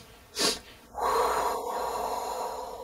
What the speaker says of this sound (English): So you can sniff, sniff, sniff, and then exhale long.